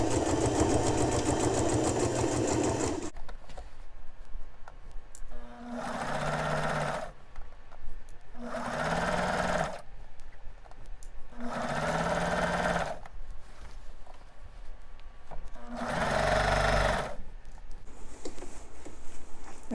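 A sewing machine stitches the sleeve seam of a man's suit jacket, running in a long burst and then in four shorter bursts with quiet gaps between, close and loud.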